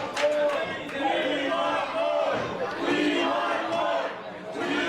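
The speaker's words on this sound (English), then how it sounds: "Crowd getting behind Keenan Moore." Wrestling crowd at an independent pro wrestling event cheering and shouting, a loud sustained roar with rising voices and scattered yells throughout.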